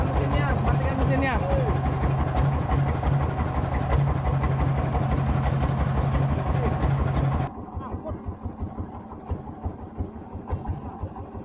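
A fishing boat engine chugs loudly nearby at a steady idle, then cuts out partway through and leaves quieter background sounds, with voices talking throughout.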